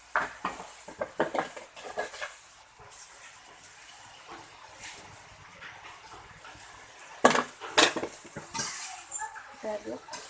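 A spoon scrapes and stirs food in a pan with bay leaves, salt, sugar and spring onion, soft clinking and a faint sizzle, with a louder burst of metal scraping near the end.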